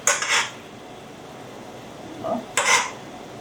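Two bright clinks of a plate and utensil, about two and a half seconds apart, as poached lobster is transferred onto a plate; quiet room tone between, no talking.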